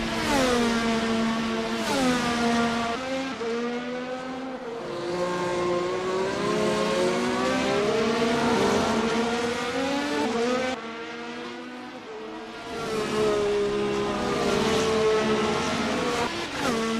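F1 race cars lapping the Canada round of a racing series. High engines whine and rise and fall in pitch as they accelerate and shift through gears, keeping up a loud and continuous drone with several cars overlapping.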